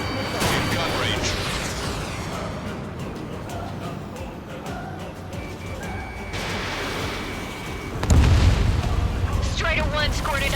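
Missile strike on an enemy aircraft in the Ace Combat 7 flight combat video game: heavy rumbling explosions and booms over a constant jet roar, with a fresh loud blast near the end.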